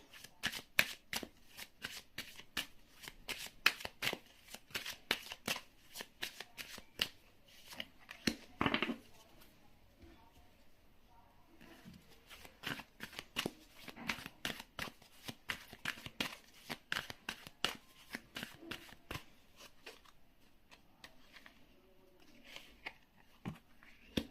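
A deck of tarot cards being shuffled, with rapid, dense riffles and flicks of card stock running in bursts throughout, one louder burst partway through, close and crisp with no talking.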